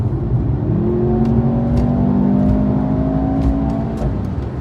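A Mercedes-Benz C43 AMG engine revs under throttle, a steady loud droning roar that holds and rises slightly before easing off, heard from inside the car with no talk.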